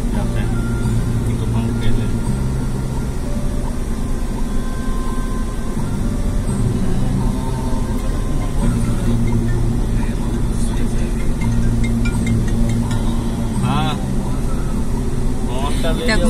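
Inside a moving car, a steady low engine and road drone fills the background while a Buddhist mantra dedicated to Guru Rinpoche plays and people talk over it.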